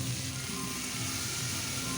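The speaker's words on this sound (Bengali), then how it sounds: "এখন ফুলকপি আর আলু দিয়ে দিচ্ছি।" Cauliflower and potatoes fry in hot oil tempered with whole cumin and a bay leaf, the same oil an egg was fried in before; a continuous close sizzle crackles evenly throughout, with no voices.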